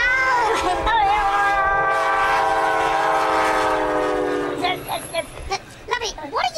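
A passing locomotive sounds a long, loud horn blast held for several seconds over a rumbling train, then fades into clattering as voices come in.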